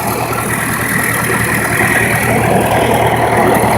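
A tractor engine idles close by with a steady low, throbbing rumble and a faint whine above it, holding constant for a few seconds with no talk over it.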